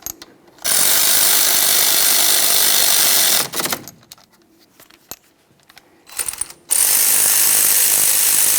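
An air ratchet whirrs in two loud, sustained bursts, snugging the caliper slider mounting bolts on a 2012-2015 Honda Civic front brake, with a quiet gap between them.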